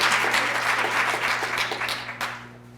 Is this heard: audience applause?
yes